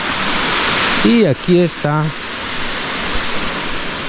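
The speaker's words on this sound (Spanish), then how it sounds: "Ahí está el río, perdón, con la cascadita." A river with a small waterfall in a park in San Cristóbal de las Casas, heard as a steady broad rush of falling water throughout, with someone speaking briefly over it.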